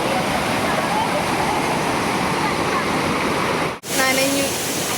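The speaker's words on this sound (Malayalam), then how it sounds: "ഇതാണ് കന്യാർകുഴി വാട്ടർഫാൾസ്" Kanyarkuzhi waterfall roars as a loud, constant rush of falling water, close by and unbroken apart from a brief cut near the end.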